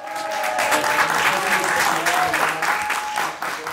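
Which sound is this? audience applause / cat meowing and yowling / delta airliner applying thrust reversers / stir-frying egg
audience applause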